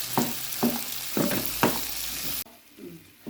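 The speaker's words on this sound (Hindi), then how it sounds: "अब मैं इसके अंदर डालूंगी शिमला मिर्च। अब इसको अच्छी तरह भून लेंगे।" Chicken mince and chopped bell pepper sizzling in a pan, a steady frying hiss with several sharp stirring scrapes in a regular rhythm, close up, before the sound drops away suddenly.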